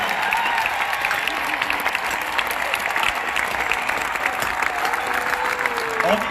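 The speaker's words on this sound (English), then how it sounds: "Let's give them a round of applause." A large audience at the Young Living Convention 2019 applauds steadily for donors standing up, a broad, sustained wash of clapping from a big hall with a faint crowd murmur underneath.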